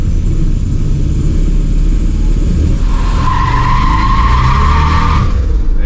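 A 1989 Turbo Trans Am power-braking and launching in a parking lot: a loud, steady engine roar with a rising tire skid squeal building midway and cutting off near the end.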